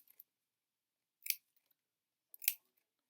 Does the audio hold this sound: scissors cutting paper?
yes